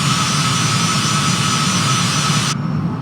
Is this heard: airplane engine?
yes